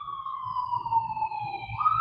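Wailing emergency siren with a long, steady tone that rises at the end, heard at a distance over a low rumble of background noise.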